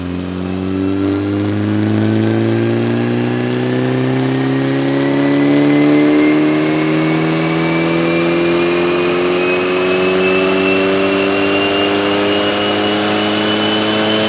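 A stock 2022 Hyundai Elantra N revs up on a dyno during a baseline run, its engine note climbing steadily in pitch over about fourteen seconds, loud and close, with no talking.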